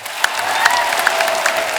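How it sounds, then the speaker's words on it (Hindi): A television studio audience applauds steadily, dense clapping that swells briefly with a few sharper claps, filling the whole short moment with no voices. "जोरदार तालियां एक बार हो जाए।"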